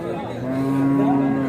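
Cattle at a busy livestock market, a cow giving a long, steady, loud moo held across the whole stretch, up close, with no speech over it.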